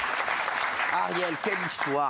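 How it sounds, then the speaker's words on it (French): A television studio audience applauds a French actress and singer, steady clapping in the background while someone talks over it in the second half. "Franchement, applaudissements."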